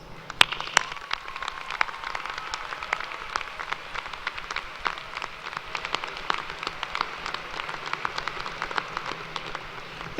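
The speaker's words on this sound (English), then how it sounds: "please join me in giving a big round of applause to these family members, friends, and loved ones" An audience at the 2016 UT spring commencement applauds graduates' family, friends and loved ones, a dense, steady patter of many hands clapping that lasts throughout.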